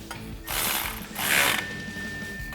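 Ratchet wrench clicking in two bursts as it tightens the rear tip of an MBRP 3-inch dual exhaust system on a Chevrolet Silverado 1500, worked through an extension, close and loud with no talk.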